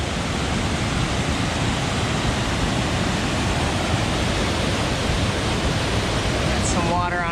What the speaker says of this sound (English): I think this is the third and final cascade on this.